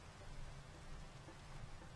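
Rain falls in Minecraft as snow gives way to rain in a mountainous survival world, a faint steady hiss with no other sounds.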